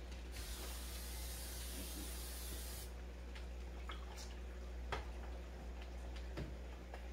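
A can of cooking spray greases a baking pan in a kitchen with one continuous hissing spray burst of about two and a half seconds, followed by faint ticks and clicks over a low steady hum.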